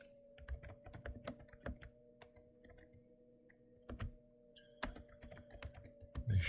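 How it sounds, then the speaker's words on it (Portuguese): Typing on a computer keyboard, heard as irregular bursts of crisp key clicks with short pauses between them, close by over a faint steady hum and with no talking. "deixa eu digitar aqui"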